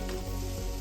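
Okra fries in a pan, a steady close sizzle that stays even and unbroken through the short moment, with no voices.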